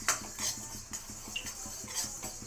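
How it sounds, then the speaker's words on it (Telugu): Red chillies, cumin, coriander and garlic dry-roasting in a pan, heard as faint, rhythmic scraping and clinking of a spatula stirring against the pan, with no voices. "ఇప్పుడు బాగా మామూలుగానే నేను వేయించుకుంటున్నాను."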